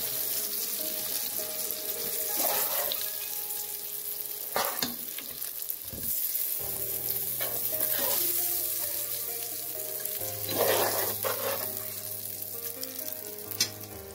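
Eggplant pieces frying in oil in a pan for a Bengali eggplant curry give off a steady close sizzle, broken by occasional clinks and scraping as they are stirred and lifted out, with brief splashy water sounds in the background.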